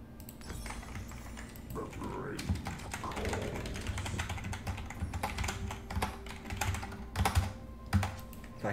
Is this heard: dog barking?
no